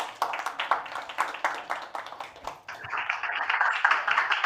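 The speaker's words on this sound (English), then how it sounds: "Applause." An audience at a startup pitch event in Portugal claps in a room, a rhythmic patter of hands that thins out and then picks up again into fuller, steady applause.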